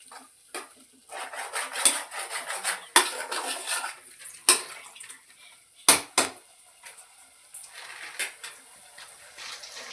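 A spoon mixes fish biryani masala in a metal cooking pot, making close, irregular scraping and clinking strokes with sharp knocks against the pot's sides. No one speaks.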